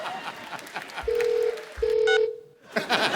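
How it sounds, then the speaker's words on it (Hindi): Two short phone dialing beeps from redialing after a hung-up call, each a steady electronic tone, with muffled voices and background noise before and after. "फोन काट दिया, मैं दोबारा लगाता हूँ"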